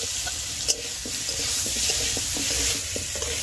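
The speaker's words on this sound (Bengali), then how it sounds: "এবার অল্প লবণ, অল্প হলুদ গুঁড়ো, 1/2 চামচের অল্প দিয়ে 2 মিনিট কষিয়ে নেব।" Fish sautéing in a pan with a little salt and turmeric, a steady close sizzle under soft scraping and stirring strokes, with one sharper clink near the start.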